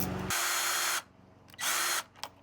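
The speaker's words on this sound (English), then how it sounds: "Same thing on this side, remove the bolts." A power tool spins bolts out of the bumper of a VW GTI MK7 in two loud, close bursts of whirring, each under a second, with a short click after the second burst.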